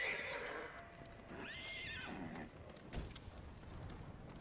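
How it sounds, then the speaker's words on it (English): In the video game Ghost of Tsushima, a horse whinnies loudly with a rising and falling neigh, set against a steady ambient background hum; a sharp knock follows shortly after. "I can hear the horses just not having a whale of a time."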